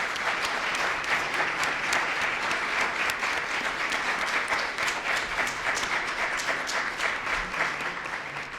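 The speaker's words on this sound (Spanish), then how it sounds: "les pido por favor a todos ellos un aplauso muy grande" An audience at an event in Mexico applauds. The clapping is dense and sustained and heard from a moderate distance, with a faint murmur of the crowd beneath it.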